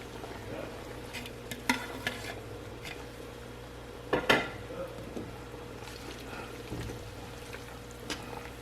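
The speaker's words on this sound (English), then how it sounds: "now since this is at a really good boil" A pot of cream of shrimp and scallop soup at a rolling boil gives a steady bubbling hiss, with a few sharp clinks of a utensil against the pot around the middle. No one speaks.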